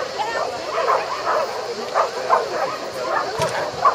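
A small found Shetland sheepdog barks and yips repeatedly outdoors, sharp mid-pitched barks in a steady series over a noisy background with people talking.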